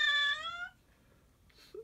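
A cat lets out a single clear, fairly close meow with strong harmonics, then the sound drops to near quiet with a faint breathy trace and a small chirp toward the end.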